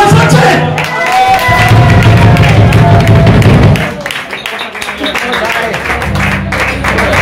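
Audience applause and cheering for a singer taking the stage at a live concert, a dense roar of clapping and crowd noise that drops off briefly before rising again, with band tones underneath.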